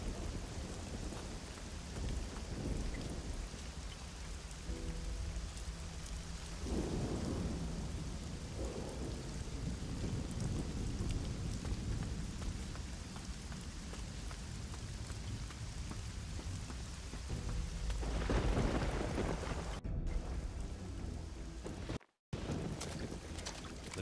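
A thunderstorm with heavy rain in the pirate-themed video game Risen 2: Dark Waters, a steady loud rain hiss with deep rolling thunder swelling several times, and water sloshing around a boat.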